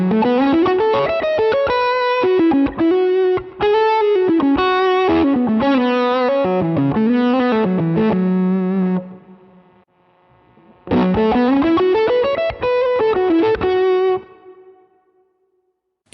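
A Stratocaster electric guitar plays through a Dark Dove fuzz modeled on a Russian Big Muff in a Helix, producing thick, distorted sustained notes in a melodic run, then a pause and a second phrase that fades out.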